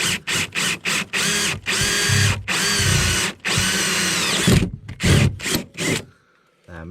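A power drill bores through wooden wall studs in bursts of whining, grinding drilling. There are short stutters, a long sustained run, a few more quick pulses and then the motor stops. It is loud and close.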